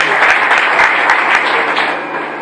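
Congregation at a Sunday church service applauding in praise for a sister, loud dense clapping close by that holds steady and then begins to ease off.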